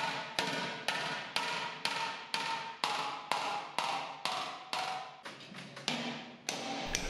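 Sharp metallic hammer blows beating dents out of sheet metal against a dolly, struck in a steady rhythm about twice per second, each ringing briefly before the next, close by.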